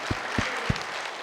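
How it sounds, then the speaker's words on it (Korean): A church congregation at a Sunday morning worship service clapping, a few distinct claps heard over a reverberant room. "하나님의 이름에 영광의 박수를 돌립니다."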